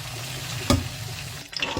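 Pieces of fish frying in hot oil for Senegalese thieboudienne give a steady crackling sizzle, broken by a short clatter and a brief burst of bubbling near the end.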